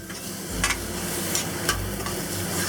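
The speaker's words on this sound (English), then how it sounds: "And we'll add the ginger and garlic. Fry this for about 15 seconds." Ginger and garlic frying in hot oil in a wok, a steady close sizzle broken by a few short scraping stirs of a utensil, with no talking.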